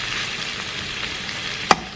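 Gizdodo, a gizzard and plantain dish, simmers and fries in a pot with a steady close bubbling sizzle and one sharp metallic clink near the end, no talking.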